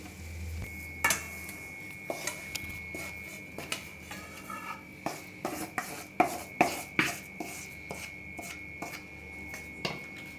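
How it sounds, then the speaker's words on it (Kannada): Halkova, a Karnataka sweet, stirred in a metal pan or plate with powdered sugar: a steady run of scraping, rubbing strokes and light clinks, close and repeated, with a faint constant hum beneath and nobody talking. "ಸ್ವಲ್ಪ ತಣ್ಣಗಾದ್ಮೇಲೆ ಸಕ್ಕರೆ ಪುಡಿ ಹಾಕ್ಕೊಂಡು ಮಿಕ್ಸ್ ಮಾಡ್ಕೊಳ್ಳೋಣ"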